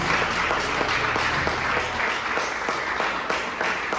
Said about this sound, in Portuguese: Irmãos, aplauda o Senhor mais uma vez.